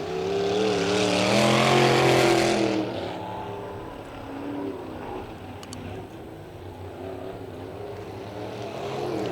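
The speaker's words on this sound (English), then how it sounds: "listening to Noel Teal work the throttle through the turn, trying to keep that car pointed straight" Race car engine revving and working the throttle through a turn under caution on an oval track, a loud rising-and-falling drone that fades after a few seconds into softer distant engine noise.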